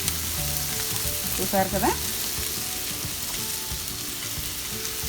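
Rinsed flattened rice (poha) tipped into a hot pan for upma hisses into a loud steady sizzle, with a brief scrape of stirring and someone talking over it.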